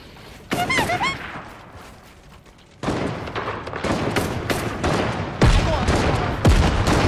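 Gunfire in the video game Fortnite: sustained, dense bursts of automatic shots with heavy booming thumps, loud and close, continuing through the whole stretch.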